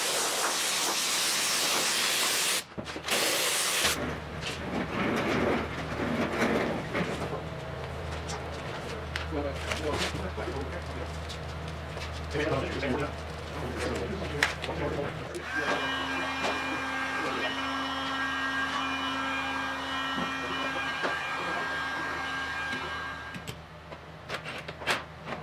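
Glue sprayed onto soft top parts of a 1980 Triumph TR7, a steady hissing spray that runs for long stretches with brief pauses, over a low background hum.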